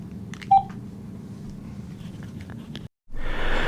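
A telephone is dialed, with a few short keypad tones over a steady low background hum before a brief silence and a burst of brighter noise, all without voices.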